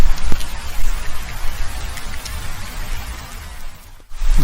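Heavy rain pours down steadily, a dense close hiss of drops striking surfaces, loud and continuous with a brief dip near the end.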